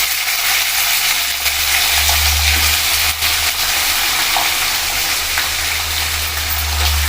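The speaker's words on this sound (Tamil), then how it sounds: "நல்லா வதக்கி விட்டுக்கலாம்." Long-cut eggplant pieces sauté in a hot pan for vangi bath, a loud steady frying hiss over a low rumble with faint stirring knocks, no voices.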